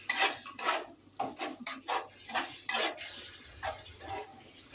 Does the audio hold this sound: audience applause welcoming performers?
no